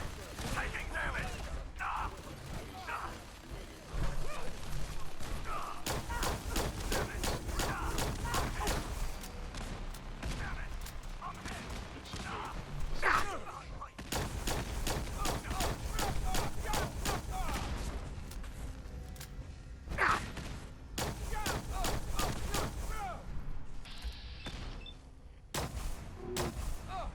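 Gunfire in the Fallout 4 Battle of Bunker Hill game fight: repeated bursts of rapid automatic shots and heavy booms over about half a minute, with short lulls between volleys and shouted voices mixed in.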